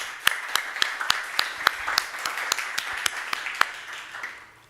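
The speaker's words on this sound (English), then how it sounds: "A warm applause for Gunvor." Scattered clapping from a seminar audience, a handful of sharp claps spread through a light, sparse round of applause with no talk over it.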